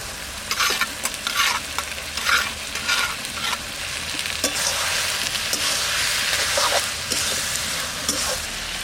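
Hilsa fish head frying with taro greens in a pan, a steady close sizzle with stirring scrapes and clinks running throughout.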